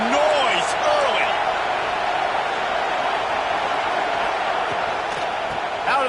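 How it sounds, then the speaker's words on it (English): Football stadium crowd at a college game, a steady loud roar of many voices filling the whole stretch, with a faint whistle-like cry near the start and end. "This crowd bringing the energy and noise early."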